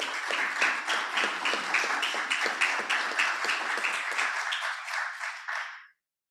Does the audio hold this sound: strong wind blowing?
no